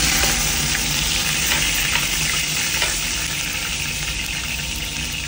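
Sliced ginger hits hot cooking oil in a pan as the base for a Filipino pork ribs mongo and bihon soup. A loud, continuous sizzle with a bubbling, hissing texture runs for several seconds, alone and close.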